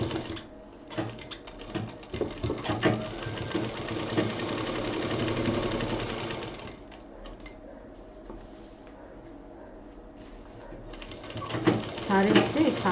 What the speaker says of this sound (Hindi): तो इसको भी हम इसके साथ ही एक बार में पूरी सिलाई करेंगे।